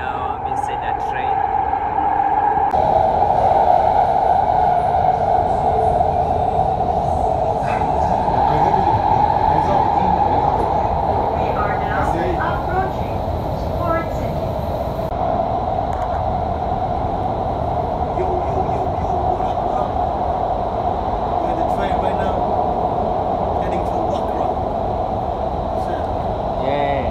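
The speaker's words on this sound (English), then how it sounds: "Now I'm inside a train" Loud, continuous rumble and hum from inside a moving train in Qatar, with a steady whine and rattling of the carriage throughout.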